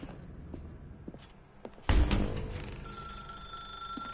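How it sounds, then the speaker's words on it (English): Inside The Stanley Parable game, a telephone begins ringing with a sudden bright trill after a few soft thumps and footsteps in a quiet dark room. A thin, steady electronic tone lingers beneath it. "Now pick up the phone."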